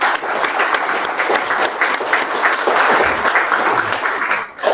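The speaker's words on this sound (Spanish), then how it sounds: "Dale palmas al Señor," A church congregation claps for the Lord during a Spanish-language service, producing loud, sustained, even applause that carries on without pause and thins briefly near the end.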